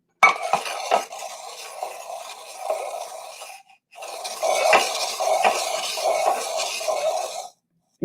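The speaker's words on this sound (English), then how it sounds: "if you have a pot and a pan, if you have two, maybe you could try something different, like maybe rubbing them together" Pot and pan rubbed together, a sustained scraping metallic clatter with a few sharp clinks, running steadily, pausing briefly, then resuming close and fairly loud.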